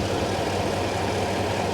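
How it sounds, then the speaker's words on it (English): A Mercedes SL600 V12 twin turbo engine idles steadily with the hood open, a continuous even rumble and broadband roar with no breaks. "Let's take a quick peek at the engine and a listen."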